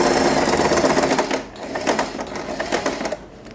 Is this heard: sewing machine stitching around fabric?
yes